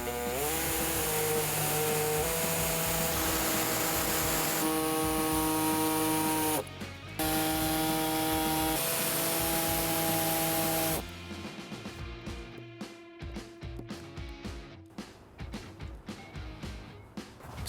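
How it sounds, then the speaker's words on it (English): Air saw cutting through the plastic bumper fascia of a 2020 Subaru Forester during a trailer hitch install, a loud steady buzzing rasp for about eleven seconds with a brief pause, then quieter intermittent tool noise. "we're going to go ahead and use an air saw to make this cut"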